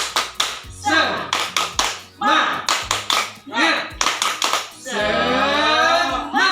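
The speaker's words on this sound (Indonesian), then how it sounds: "Berikan tepuk semangat." A group claps in quick rhythmic bursts alternating with chanted Indonesian voices, then a sustained shout over continued clapping, during a training workshop session.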